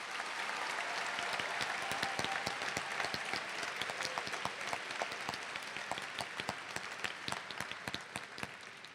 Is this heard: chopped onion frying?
no